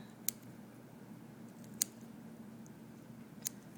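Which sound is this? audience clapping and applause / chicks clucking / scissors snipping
scissors snipping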